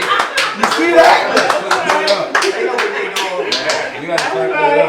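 Audience members clap, a ragged burst of individual handclaps close by, with people talking and cheering over the clapping throughout.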